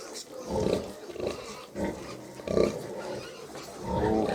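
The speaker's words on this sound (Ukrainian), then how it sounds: "Там он десь і нюсіні кричать, хочуть звалити її, мабуть" Week-old piglets on a small farm squealing and grunting in repeated bursts, close and fairly loud.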